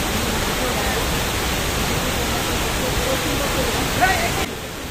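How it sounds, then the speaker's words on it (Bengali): Waterfall at Ajodhya Hill in Purulia, heard from close by: a constant broadband rush of falling water, loud and even throughout, dropping slightly near the end. "একদম জলপ্রপাতের কাছে চলে আসবেন, আর এত সুন্দর জলপ্রপাত দেখতে পাবেন"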